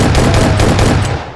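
Rapid gunfire from a gun mod in Minecraft, a loud burst of quick repeated shots close up, with no talking.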